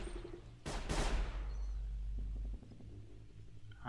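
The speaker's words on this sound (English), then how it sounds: "That was shooting in the distance." Distant gunshots in the video game Sir, You Are Being Hunted: a pair of sharp far-off shots followed by a brief volley of fainter pops, over a low steady rumble with no voices.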